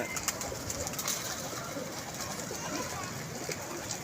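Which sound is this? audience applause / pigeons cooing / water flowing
pigeons cooing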